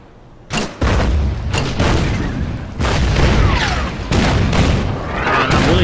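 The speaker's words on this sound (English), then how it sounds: "And I'm really tired of that artillery." Artillery fire in the strategy game Order of Battle: Winter War on the Karelian Isthmus, a run of heavy booming blasts in quick succession, loud and close, each followed by rumbling decay and overlapping explosions.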